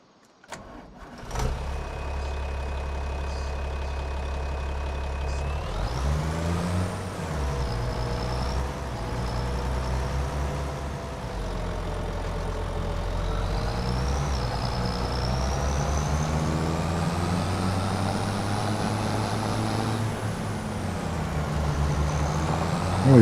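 Tractor engine in a farming simulator game, starting up with a low idle and then revving and settling into a steady, loud diesel drone with shifting pitch as it drives, close and continuous without talk.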